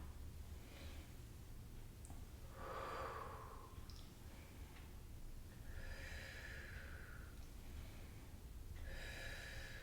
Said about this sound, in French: On inspire sur la gauche et on expire vers l'avant.